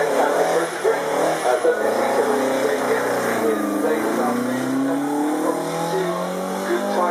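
An Alfa Romeo Giulietta hatchback accelerates on a race track, its engine note rising and sweeping in pitch steadily and loudly throughout, with a person talking over it.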